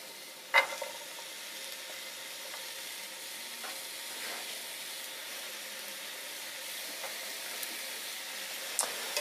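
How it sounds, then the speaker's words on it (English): Mushrooms and onions sautéing in a pan, a steady moderate sizzle with a sharp clatter near the start and occasional light stirring clicks and scrapes, close and without talk. "And just go right ahead and start sauteing."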